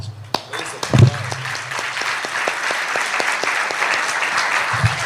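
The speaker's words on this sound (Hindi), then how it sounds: "मैं आपके लिए ताली बजाना" An audience claps during a religious sermon gathering, with scattered individual claps at first that build into steady applause from a mid-distance crowd, lasting several seconds.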